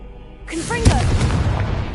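Confringo blasting curse bursts with a sharp loud explosion in a Harry Potter video game, a sudden crack followed by rumbling debris that lingers for a moment.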